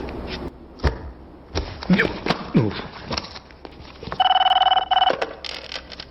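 A telephone rings in a short electronic burst partway through, between footsteps, knocks and brief speech.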